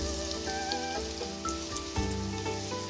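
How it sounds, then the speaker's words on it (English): Garlic frying in about two tablespoons of olive oil in a pot, a steady close crackling sizzle with fine popping, continuous and moderately loud throughout, no talking. "First thing you have to do is fry off some garlic till it's lovely and crispy"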